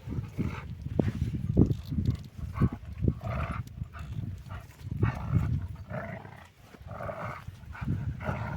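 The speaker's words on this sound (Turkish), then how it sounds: "Köpekleri kavga ettirecek ya." Dogs scuffle and fight up close, with bursts of growling, snarling and barking that rise and fall continuously throughout.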